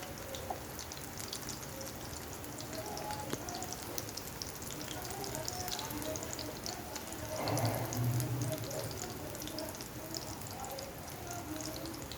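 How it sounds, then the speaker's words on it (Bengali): A steady, dense sizzle and crackle of oats pakoras deep-frying in hot oil, continuous and close, with faint voices briefly underneath. "দেখতেই পাচ্ছেন তেলটা ভাজা হচ্ছে"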